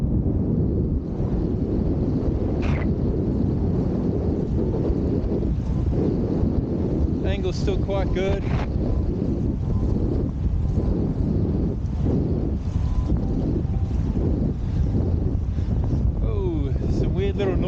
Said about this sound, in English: It's a really good gust now, 24, 25 k's an hour